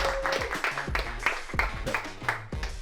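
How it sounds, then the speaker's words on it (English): A team on vacation claps together for everyone, a brief, irregular round of hand claps close by, with some voices mixed in. "I think we can clap for everybody"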